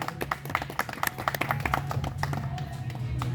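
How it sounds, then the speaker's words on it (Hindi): A crowd at a public event gives a scattered burst of clapping, the claps close and uneven over a steady murmur of voices and background noise. "जो ताली उठे हो"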